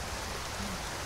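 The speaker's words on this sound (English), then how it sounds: "It starts raining all of a sudden." Sudden rainfall in the video game Skyrim, a steady broadband hiss of rain that fills the whole moment evenly, fairly loud and unbroken, with no talking over it.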